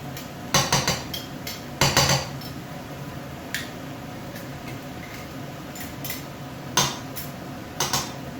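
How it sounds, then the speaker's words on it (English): Garlic and leeks stirred in a pan for a fish chowder, with a spoon clinking and scraping against the metal in a few sharp clusters over a steady low background. "give everything a little stir"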